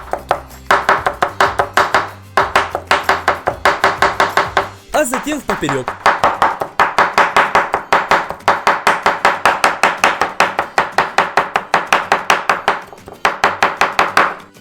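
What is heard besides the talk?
knife finely chopping sun-dried tomatoes into strips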